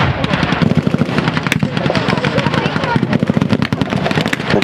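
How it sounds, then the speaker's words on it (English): Rapid, sustained bursts of German machine-gun fire at a battle reenactment, loud and close, crackling continuously amid other small-arms shots, with voices faintly mixed underneath. "The German machine gun's opening up."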